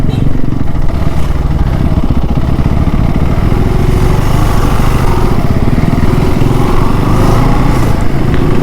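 A motorcycle engine drones steadily and loudly while riding, with constant rumble and wind-like noise throughout.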